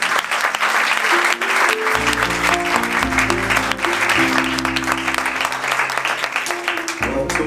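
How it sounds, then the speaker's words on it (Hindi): Audience at a Christian church music programme in a church hall applauding loudly and steadily for several seconds, with sustained organ or keyboard chords underneath the clapping. "बहुत ज़ोरदार ताली"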